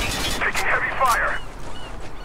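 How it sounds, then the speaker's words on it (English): Heavy gunfire in the military shooter game Spec Ops: The Line, with a burst of sharp cracks and blasts layered in a dense, loud battle mix. "Taking heavy fire."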